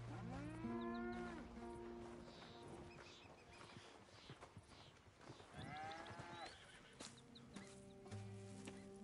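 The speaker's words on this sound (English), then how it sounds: "Here's the cows." Several cattle moo in Red Dead Redemption 2 farm ambience: long, drawn-out lowing calls rising and falling, a couple overlapping, moderately close, amid soft background bustle and faint hoof clops.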